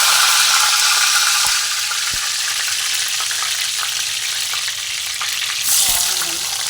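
Mustard seeds, caraway and cinnamon bark sizzle in hot oil, a loud steady frying hiss with a couple of sharp pops and a brief stir near the end.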